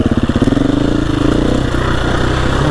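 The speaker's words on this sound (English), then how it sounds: "We're out for a little midweeker on the KTM." A KTM EXC-F 350 dirt bike engine runs close by on a solo hard enduro ride, with a throbbing, pulsing exhaust note that steadies into a continuous loud drone.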